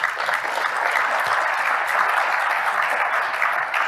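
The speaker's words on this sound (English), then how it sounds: "he's playing right to the crowd and he wants them to applaud" A crowd applauds a speech on Iran, a dense, sustained wash of clapping from many hands that holds steady at full strength for several seconds without any talking.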